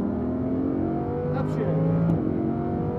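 Lamborghini Huracan on a race track at Speed Vegas pulling away at full power, a steady loud engine drone with rising tones as another car passes close by, with a person talking over it.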